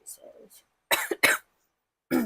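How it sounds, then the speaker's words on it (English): A smoker's couple of sharp, close coughs in quick succession, with a bit of throat clearing and quiet breathing around them. "I have a cough."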